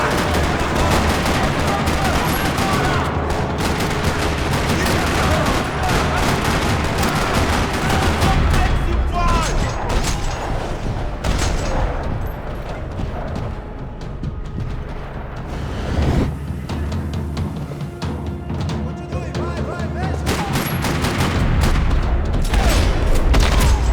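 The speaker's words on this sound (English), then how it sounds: "Another parking lot rattling with gunfire." Gunfire rattles through a parking lot during combat in the video game Mad Max, with dense overlapping shots, bursts and booms sustained loudly throughout, mixed with mechanical clatter and game effects.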